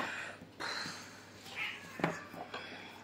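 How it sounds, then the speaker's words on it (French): A startled cat meows angrily in several short, strained bursts with gaps between them, close by in a quiet room. "Vous entendez Rainbow qui m'engueule parce qu'en fait je viens de lui faire peur."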